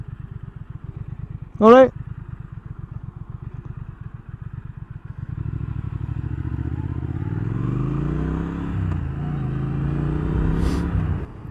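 A 2019 Triumph Thruxton R 1200 motorcycle idles with a steady low throb, then its engine note swells and rises as the bike pulls away, with a brief voice and a short sharp tone near the start.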